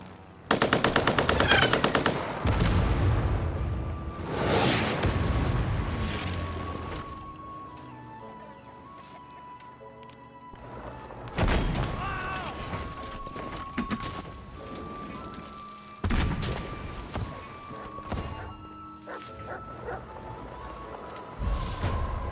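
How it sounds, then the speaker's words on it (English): Bombing attack in the strategy game Civilization VII: heavy bursts of rapid gunfire and explosions, loud and dense in several waves separated by quieter stretches of low rumble, with no talking. "I'm just gonna bomb Lulami."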